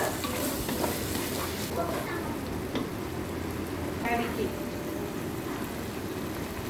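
Steady dense bubbling and sizzling of a thick masala gravy for egg bhurji boiling on full flame, constant and fairly loud throughout, with faint background sounds.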